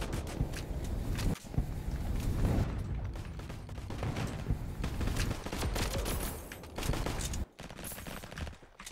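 Semi-auto pistol fire in the Roblox game Flag Wars, a dense run of rapid, sharp shots and mechanical clicks crowding together over steady game background noise.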